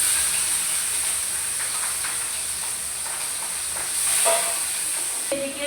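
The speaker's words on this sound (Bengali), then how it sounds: "এখন মাছ ভাজা তেলের ভিতরে আমি পেঁয়াজ মরিচ দিয়ে দিব" Onions and chillies dropped into hot oil left over from frying fish hiss and sizzle steadily, a broad close crackle with a brief louder burst toward the end and no voices.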